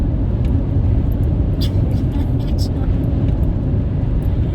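A Tesla truck driving past on a cold, damp, windy day makes a steady, loud rumble of road and tire noise blended with wind, holding at an even level throughout.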